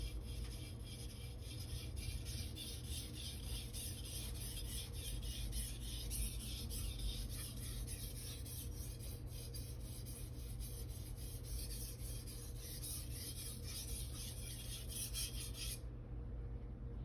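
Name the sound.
sharpening Aogami super steel knife on whetstone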